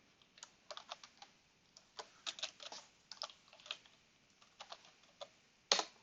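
Fingers typing on a computer keyboard in irregular bursts of close, crisp clicks during an online bridge game, with a sharper louder key strike near the end and no talk over it.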